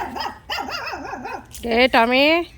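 A dog near a home terrace gives a couple of short, rough barks that rise into a longer growling, whining cry, loud and close, with a person speaking around it.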